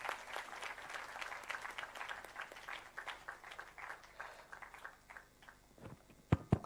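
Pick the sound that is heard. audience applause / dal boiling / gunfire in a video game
audience applause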